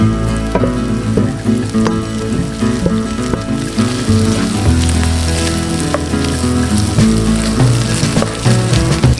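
White onion and milkfish (bangus) flakes fry in butter in a pan while cooking sisig outdoors in a backyard, giving a loud, continuous close sizzle with occasional stirring clatter throughout.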